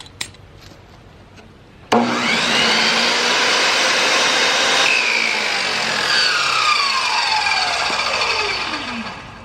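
A loud Delta table saw motor, rebuilt after a seized bearing, whines up suddenly after a short quiet moment, runs steadily, then winds down with a falling pitch.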